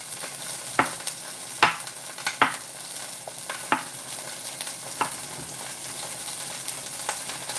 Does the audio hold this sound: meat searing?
yes